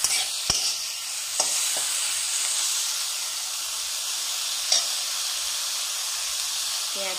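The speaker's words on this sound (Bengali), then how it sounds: "গাজরগুলো দিয়ে দেবো, একসঙ্গে দিয়ে দেবো, হালকা করে ভাজবো, বেশি কড়া করে ভাজবো না।" Carrots fry lightly in a pan for chowmein, giving a steady close sizzle and hiss throughout, with a few sharp clicks of a spatula stirring against the pan.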